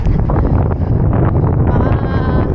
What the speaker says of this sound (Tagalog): Lakas ng hangin, wala tayong makapitan.